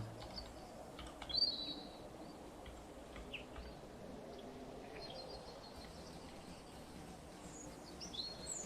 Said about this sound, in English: can someone explain me why I hear birds